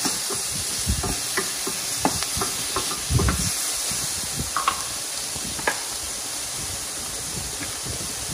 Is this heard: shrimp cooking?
yes